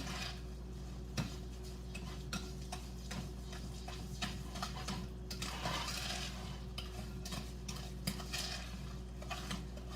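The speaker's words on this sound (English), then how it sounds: "I'm just going to stir this all up so it's nicely" A spoon stirs melted brownie mixture in a bowl, giving soft repeated scrapes and light clinks against the sides over a low steady background hum, fairly quiet and without speech.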